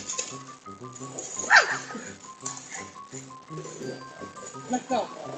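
A dog captured on a doorbell camera gives a few short barks and yips, with clinking sounds alongside, under speech and background music, fairly near and mid-level in loudness.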